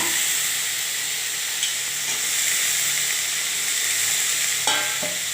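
Brinjal sautéing in hot oil for a ghee tomato rice dish gives a loud, steady sizzle and hiss that carries on without pause, with a few faint stirring clinks near the end.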